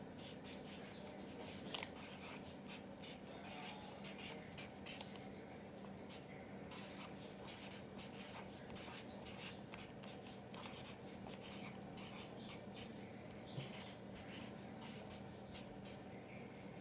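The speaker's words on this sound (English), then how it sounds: "I'm going to write those two things down here on the paper" Pen writing on paper as a chart is filled in, steady soft scratching strokes running throughout at close range over a constant background hum, with no talking.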